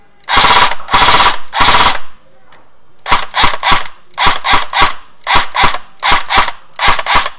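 An Echo 1 USA Platinum M4 airsoft gun, just fitted with a new piston, fires in loud, sharp, rapid bursts: three longer strings, then a series of short bursts of a few shots each, close and with no talking.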